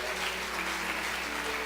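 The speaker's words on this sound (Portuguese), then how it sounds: "Mais forte as palmas, aleluias." Church congregation applauding steadily during an evangelical service, a dense wash of clapping with a voice faintly underneath.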